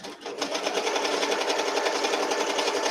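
A machine-embroidery setup stitches a fall design onto a towel, its needle hammering in a fast, steady, even rhythm that runs loud and close for the whole stretch after a brief start-up.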